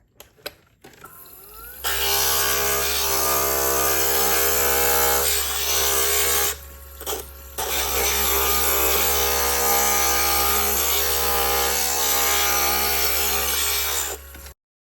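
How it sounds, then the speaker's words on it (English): An electric glass grinder rounding fused glass pieces runs in a loud, continuous whine with harsh grinding texture, starting after a brief pause, dipping once mid-way, then resuming steadily until it cuts off at the end. "now I'm going to round them with the grinder"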